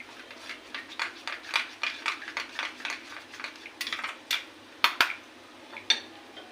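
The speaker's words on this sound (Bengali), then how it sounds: "এবার এই দুটো একসাথে মিশিয়ে একটু ফেটিয়ে নিচ্ছি" Crushed peanuts being whisked into milk in a bowl, a steady run of quick rhythmic clinks and scrapes close by, with a few sharper knocks near the end and no voices.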